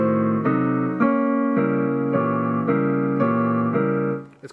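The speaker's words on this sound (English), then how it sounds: "the Philippe exercises are all based on diminished chords" Piano plays a steady, repeated finger-exercise pattern of diminished chords moving up in even steps, each lasting about half a second, ending with a short fade.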